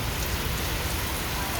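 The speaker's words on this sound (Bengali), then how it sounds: "দেখো কি বৃষ্টি হচ্ছে," Steady rain pours down in a continuous, even wash of noise, close and moderately loud throughout, with no talk in the moment.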